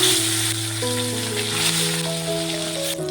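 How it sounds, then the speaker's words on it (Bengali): Chapila fish fry in oil in a home kitchen with a continuous, fairly loud sizzle, heard under background music and with no talking. "আমি বাকি মাছটাকে একইভাবে ভেজে নেব"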